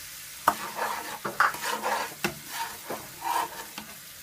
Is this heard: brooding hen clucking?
no